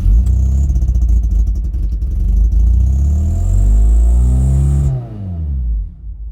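A Mk2 Ford Mondeo Estate engine cranks with rapid rhythmic clatter, then catches and runs roughly with rising revs before cutting off abruptly, close by.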